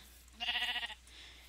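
A sheep in a survival video game gives a single clear bleat of about half a second, close and loud, over faint background noise.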